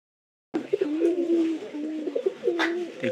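A pigeon suffering from a cold coos close by after a brief silence, a series of low throaty rolling coos with small breaks and a faint higher chirp near the end.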